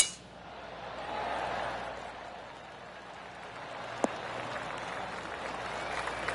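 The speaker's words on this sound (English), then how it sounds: "Oh, golf clap." Polite golf clap from a gallery after a shot at a golf tournament, a soft, distant patter of scattered hands that swells slightly and lingers under the quiet.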